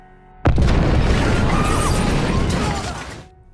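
Explosion from the action film Heart of Stone: a sudden loud boom that bursts in and roars into a sustained rumbling blast with crackling debris, fading out after about three seconds.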